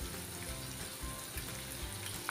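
Tamarind pulp mixed with rice flour hits hot oil tempered with coriander, giving a loud, continuous close sizzle that spits and crackles steadily throughout, with no talk.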